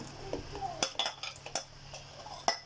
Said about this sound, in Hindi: अब मैंने जो टमाटर का पेस्ट बना के रखा हुआ था ये डाल रही हूँ